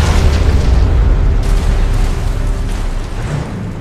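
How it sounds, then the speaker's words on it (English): A nuclear warhead detonating and destroying a base in a real-time strategy game, a loud, deep rumbling blast that roars at full strength and then slowly decays over several seconds. "Nuclear warhead launched."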